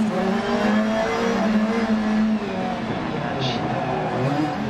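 Rally cars race in the Dirt Rally 2.0 video game, played on a Logitech G923 racing wheel: loud, continuous engine roar with revving pitch changes from several cars close around.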